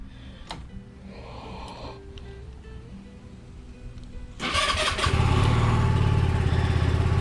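A SYM Lance Cali Classic fuel-injected scooter cranks briefly after quiet ticking and whirring, then its small engine catches and settles into a loud, steady, close idle.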